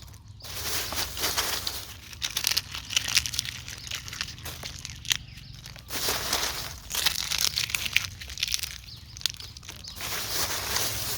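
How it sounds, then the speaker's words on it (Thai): Sun-dried ripe banana peels crumpled by hand for mixing into bagged potting soil, giving dense, continuous crackling and crunching close up, in repeated bursts with no talk. "เนี่ยพอแห้งแบบเนี้ยขยำง่ายเลยนี่ตากแดดเลย เปลือกกล้วยสุก"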